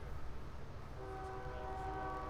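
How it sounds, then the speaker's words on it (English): A train rumbles steadily in the background during a Gen Con 2018 tabletop match, with a low continuous roll and a sustained horn-like tone rising after about one second, moderately loud and distant. "Of course, the tranquility of the train in the background."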